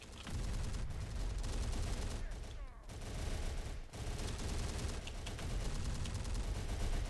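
A sustained barrage of gunfire and booming artillery from the Terminator: Dark Fate Defiance strategy game rumbles loudly and continuously, with heavy impacts breaking through the dense shooting.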